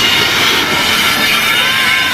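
A train rolls past at the Jurani railway gate, a loud, steady roar of wheels on rail with a hissing squeal on top, close and continuous throughout.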